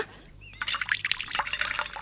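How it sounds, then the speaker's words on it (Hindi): Water poured into an animal's drinking vessel, a short splashing, gurgling burst that starts after a brief pause and runs on fairly close and soft. "उसके बर्तन में पानी डालते हुए बोला,"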